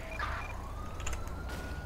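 A wailing emergency siren from an ambulance in GTA 5 with the LSPDFR police mod, its tone sweeping up and down over a low engine rumble at moderate distance.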